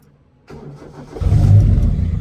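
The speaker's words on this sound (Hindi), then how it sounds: "first self start for you" A Honda EF hatchback with a fresh battery cranks briefly, then its engine catches and settles into a loud, rumbling idle, close by and with no talking.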